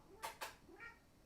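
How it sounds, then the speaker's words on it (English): A house cat meowing to be let in, two short cries close together near the mic, followed by a softer third call, fairly faint against a quiet room. "I have to let my cat in and then I'm back."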